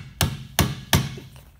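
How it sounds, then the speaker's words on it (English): Three sharp, evenly spaced hammer strikes hit the blade of a Rover Victa lawn mower. Each blow is loud and close, with a brief ringing decay, and nobody speaks. "Let's use the hammer."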